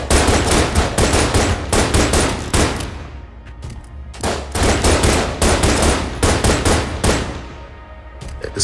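Rapid gunfire from the video game Enter the Gungeon, loud bursts of shots in quick succession, broken by a brief pause for reloading before firing resumes, with no voices.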